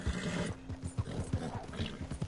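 A horse in Red Dead Redemption 2 clip-clops at close range, its hooves striking in a quick, uneven rhythm of distinct thuds against faint background noise.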